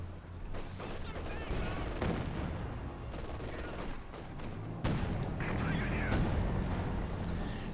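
Pak anti-tank gun fire and scattered battlefield gunfire in the World War II strategy game Company of Heroes 2, with sharp, booming shots and bursts over a rumbling backdrop while a commentator talks throughout.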